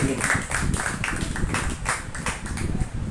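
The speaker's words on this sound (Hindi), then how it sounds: "थोड़ा ताली बजेंगे, खुदा का नाम का महिमा करेंगे।" A church congregation at a Bible study meeting in Pimpri, Pune, Maharashtra claps hands in praise of God, a dense, steady patter of many hands with a faint voice underneath.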